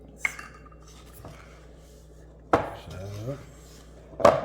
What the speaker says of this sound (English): Mix that up good.